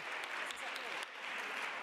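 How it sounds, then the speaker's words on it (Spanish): Grateful applause from the audience at an LGBTI rights event fills a lecture hall, a soft, steady wash of clapping heard from some distance with no break. "A mis 5 imponentes ponentes, un abrazo, un aplauso de agradecimiento"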